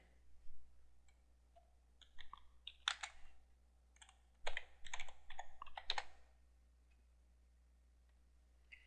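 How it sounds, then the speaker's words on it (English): Typing on a computer keyboard at a desk comes through as quiet scattered clicks and short clustered bursts of keystrokes, with a low steady hum beneath and no talking. "then we need to key this in"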